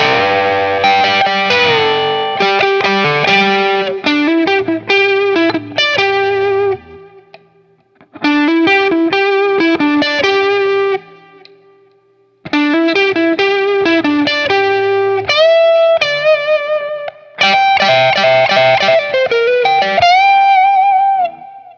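A budget Telecaster-style electric guitar with coil splits rings out through distortion and effects, playing loud strummed chords and riffs in several bursts separated by short pauses.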